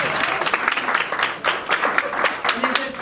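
An audience at a talks event claps in a sustained round of applause, dense and fairly loud, with voices mixed in under the clapping.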